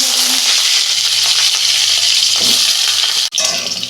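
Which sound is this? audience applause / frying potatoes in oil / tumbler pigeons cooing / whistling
frying potatoes in oil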